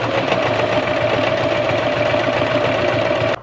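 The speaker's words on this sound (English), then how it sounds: "I'm going to just sew it all the way down the edge" A sewing machine stitches steadily down the edge of a notebook pocket, its loud continuous motor hum and rapid needle chatter running unbroken for several seconds before stopping abruptly at the end.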